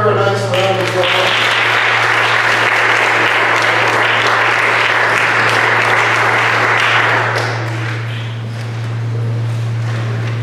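Audience in a chapel breaks into loud, dense applause welcoming a speaker, sustained for about seven seconds before thinning out and fading, with a steady low hum beneath.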